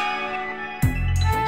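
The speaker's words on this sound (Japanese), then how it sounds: "この鐘の音は" A large bell in the Trails in the Sky the 3rd game rings out with a sudden loud clang partway through, following a quiet sustained tone, and its metallic ring lingers to the end.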